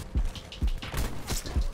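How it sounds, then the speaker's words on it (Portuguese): Rapid gunfire from a weapon in a video game, repeated heavy thumping shots in an uneven burst, loud and close, with no voices over them. "Cara, essa arma cospe tiro, velho."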